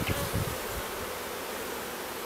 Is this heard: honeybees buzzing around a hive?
yes